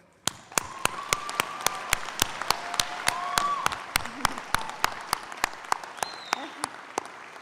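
Audience applause for donors, the foundation and county legislators at a Spring 2019 DCC college graduation ceremony: a steady, rhythmic run of sharp, evenly spaced claps that holds throughout, with faint voices underneath.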